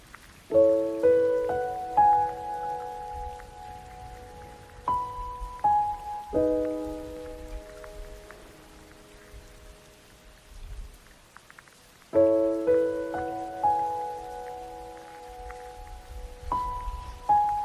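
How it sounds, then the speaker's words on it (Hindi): Rain falls steadily in Pakistan, a soft continuous patter throughout with a slow melodic tune playing over it. "और वो भी अपनी बारिश एंजॉय कर रहे थे और मैं भी अपनी बारिश एंजॉय कर रही थी।"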